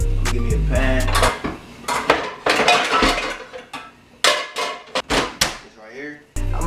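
A pan is pulled out from among pots and pans with a series of loud, close metallic clanks and clatters in uneven bursts, with short pauses between them.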